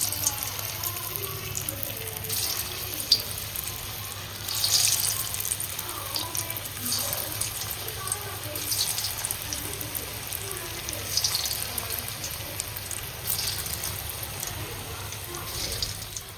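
Vegetable manchurian balls fry in hot oil in a kadhai, giving a soft, steady, hissing sizzle that bubbles on quietly and evenly throughout, with faint swells now and then.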